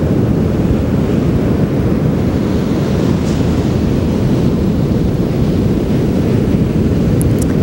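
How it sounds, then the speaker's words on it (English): Ocean waves break on a beach in a loud, continuous roar of surf mixed with heavy wind buffeting, steady throughout with no voices. "Allow yourself to connect to the sound of the waves."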